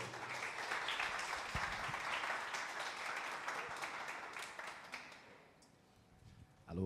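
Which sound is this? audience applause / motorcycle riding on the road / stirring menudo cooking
audience applause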